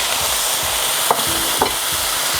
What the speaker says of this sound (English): to my preheated skillet, I have a couple pounds of ground beef.